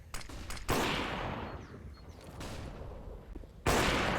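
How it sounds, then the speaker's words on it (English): Bursts of gunfire ring out in a CS:GO match on the Inferno map, loud booming shots with fading tails and a few rapid pops between them, with no voices. "AWP will fire away."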